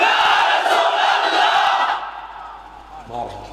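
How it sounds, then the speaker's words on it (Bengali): A large crowd at a Bangla religious waz gathering roars the slogan Naraye Risalat in one loud, sustained collective shout that cuts off after about two seconds, leaving quieter murmuring and a brief thump. "আহলে সুন্নাত ওয়াল জামাত সবাই মিলে এবার বলি নারায়ে রিসালাত।"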